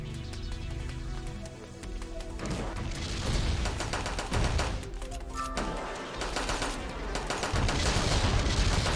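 Rapid video game gunfire rattling almost continuously in dense bursts, layered over loud background music with only a brief lull partway through.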